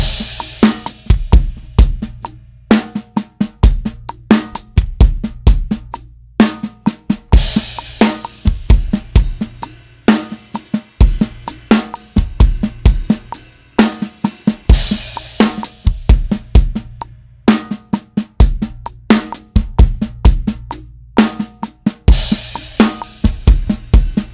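A steady drum groove of kick, snare and hi-hat repeats with crash cymbal hits splashing at the start of phrases, loud and close.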